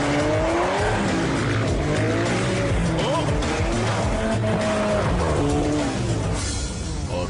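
A cartoon motorcycle engine revs and whines with rising and falling pitch alongside squealing tires, loud and continuous throughout.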